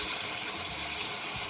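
Mild warm water runs from a tap into a cup in a steady, close hiss that flows without pause for a brief moment.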